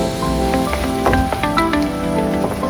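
Tomato puree sizzles in hot oil in a kadhai while kadhai paneer is cooked, giving a steady, close, loud crackling hiss with scattered pops and spatters throughout.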